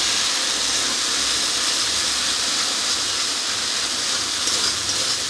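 Vegetables and spices stirred together in a hot pan give a dense, steady sizzling hiss throughout, close and loud with little variation.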